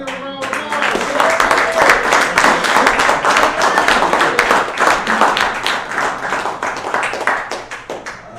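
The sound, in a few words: audience applause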